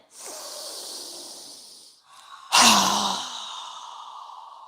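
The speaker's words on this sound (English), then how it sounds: "Strong exhale." Two forceful breaths during a yoga breathing exercise: a steady airy exhale lasting about two seconds, a short pause, then a stronger, louder nasal-sounding exhale that tails off slowly, close to the microphone.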